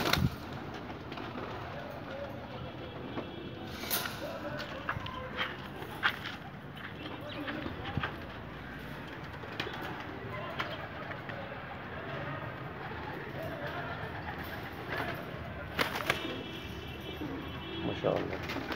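Pigeons coo softly in a loft, with the hazel-shell coloured birds murmuring continuously at low level. Someone talks over them throughout, and there are occasional flutters and bumps.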